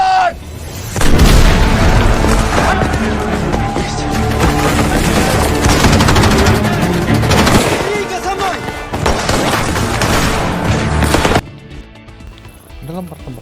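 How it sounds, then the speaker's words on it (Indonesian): A World War II battle scene from a German versus Soviet war film, with dense bursts of gunfire and booming explosions that go on for several seconds under a narrator's voice and then cut off abruptly near the end. "terjadilah pertempuran yang sangat sengit di antara kedua belah pihak"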